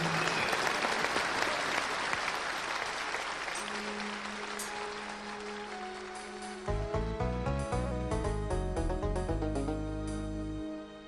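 A studio audience at a TV singing competition, Zvezde Granda 2004, gives loud, sustained applause for about six seconds; then a band with strong bass starts playing while the clapping fades underneath.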